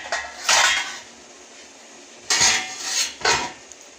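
A metal pot of sugar syrup is set down on a gas stove, giving a few loud clanking knocks in separate bursts with quiet pauses between, close by and with no talking.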